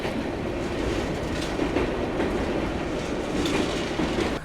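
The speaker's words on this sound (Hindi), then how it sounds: "बट सामने से वंदे भारत आ रही है अपनी वाराणसी नई दिल्ली" Vande Bharat Express on the Varanasi–New Delhi run rushes past at speed, a loud continuous roar with rhythmic clickety-clack of wheels over rail joints, heard steadily throughout from close by.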